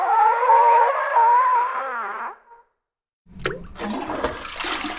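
A toilet flush roars and gurgles as water rushes near and loud for about two seconds. A pause follows, then a second bout of splashing, hissing water.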